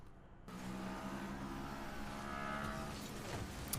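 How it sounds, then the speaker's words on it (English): A loud car passing outside a room, its engine roar swelling suddenly and holding as a broad continuous drone that is fairly faint overall and carries no speech. "Sorry about the loud car that just went by."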